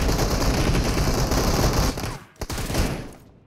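Rapid automatic gunfire rattles in a video game team deathmatch, loud and continuous for about two seconds before breaking off into a few scattered shots and silence.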